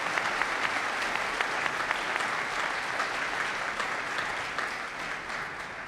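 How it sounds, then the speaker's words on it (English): An audience applauds steadily for a choir and band at a community song celebration in Nanaimo. The clapping is dense and sustained at a fairly even level, with no voices over it. "Let's give them another round of applause."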